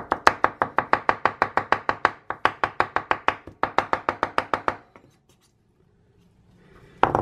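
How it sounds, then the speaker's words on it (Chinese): A knife chops boiled wild termite mushroom and peeled tree tomato on a cutting board in rapid, even strokes, about thirty close crisp hits, then stops, with a single knock at the end. "然后呢剁一下。"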